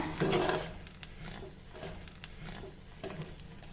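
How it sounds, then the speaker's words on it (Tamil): Ghee mixture stirred in a pan over a medium flame for a batter dish, giving a soft steady sizzle with a few sharp scraping clicks of a spoon against the pan, close and fairly quiet, with no voices. "நெய் ஊற்றிட்டு அடுப்பை மீடியம் ஃப்ளேமில் வச்சுட்டு இப்போ நல்லா கிளறி விட்டுக்கலாங்க."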